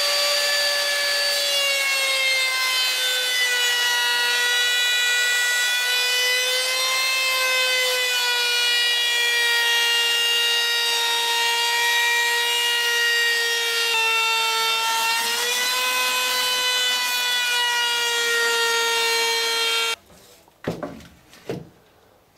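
A power saw rips along the length of a timber spar for a boat boom or gaff, a loud continuous whining cut that holds steady for about twenty seconds, then stops, followed by a few knocks.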